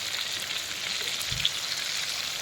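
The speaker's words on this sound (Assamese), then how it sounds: "ধুনীয়াকৈ তেলত লৰাই দিছোঁ চিকেনকেইডোখৰ।" Chicken pieces fry in hot oil with a faint, even, rain-like sizzle that holds steady throughout, with one soft low bump partway through.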